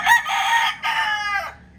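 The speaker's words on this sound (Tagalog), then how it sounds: "kanino kayang manok yan? Yan, pang sabong yan." A fighting rooster crows loudly and close by, one drawn-out call broken by a brief gap, then trailing off into quiet.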